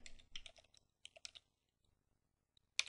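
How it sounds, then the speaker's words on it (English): Computer keyboard typing a command, with quick clusters of close, crisp key clicks, a brief pause, then a sharper single keystroke at the end, faint and with no voice. "Let's type in ifconfig again"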